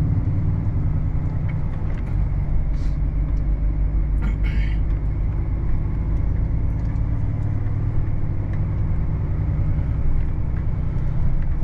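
Volvo FH540 truck on a French road: a loud, steady diesel rumble from inside the cab throughout, with a brief hiss or clatter near the start and no pause.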